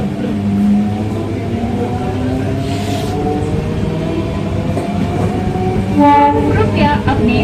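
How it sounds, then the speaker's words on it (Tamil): A Chennai suburban local train pulls away from Urapakkam railway station, its steady rumbling roll heard from on board, with a rising tonal whine and rhythmic clatter building near the end. "நாம ஊரப்பாக்கம் ரயில்வே ஸ்டேஷன்ல இருந்து இப்போ டிபார்ட் ஆகிட்டோம்."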